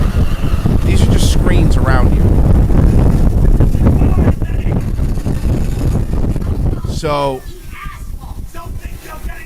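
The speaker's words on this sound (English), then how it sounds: "I don't know why there's wind noises either, because you're not actually moving in this part" Loud rushing wind noise on the Fast and Furious ride at Universal Studios, mixed with engine-like rumble and ride effects. People talk over it, and it drops in level toward the end.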